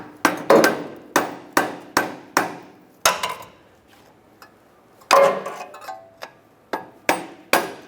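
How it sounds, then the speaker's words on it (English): Sharp metallic hammer taps striking a punch on the front axle of a 2002-2005 Ford Explorer, about a dozen spaced blows in two bursts with a short pause between, close and loud. "I'm going to take a punch and a hammer, and I'm going to see if I can bang it off"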